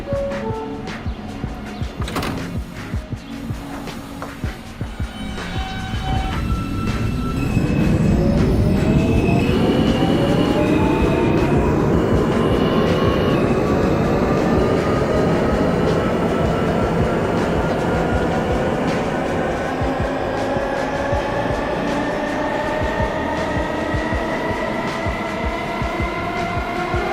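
A Manhattan-bound Q local subway train in the OpenBVE train simulator pulls away and runs steadily, its motor whine rising in pitch over a continuous rumbling roll, loud and close, with no talk.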